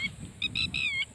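A bird gives a few short, clear whistled calls in quick succession, fairly close, over a low background rumble.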